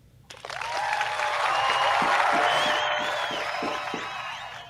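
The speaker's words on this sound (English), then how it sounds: "You gonna follow up with your applause?" Sustained applause from a crowd, swelling quickly and holding steady, with a few scattered cheers mixed into the clapping.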